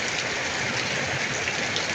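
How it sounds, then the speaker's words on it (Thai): Heavy rain pours steadily outdoors in Kamphaeng Phet, Thailand, a dense, even hiss that stays close and unbroken with no voices. "ฝนตกยิ่งตกยิ่งหนักครับ"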